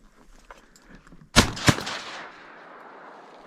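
Two quick, loud shotgun blasts ring out close by during a youth duck hunt in Minnesota, each with a short echoing tail over quiet marsh ambience.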